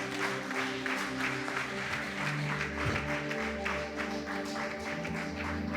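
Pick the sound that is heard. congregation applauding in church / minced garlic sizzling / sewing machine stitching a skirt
congregation applauding in church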